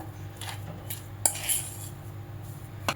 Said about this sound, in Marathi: इथे मी काट्या चमच्याने असं याला मॅश करून घेते